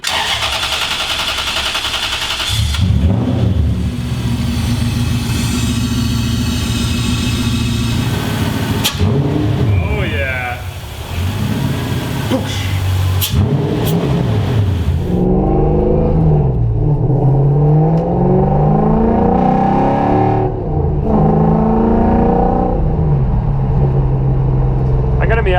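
The engine of a drift truck fitted with a new intake starts, idles and revs repeatedly, up close and loud, in a snowy outdoor setting. A voice talks over parts of it.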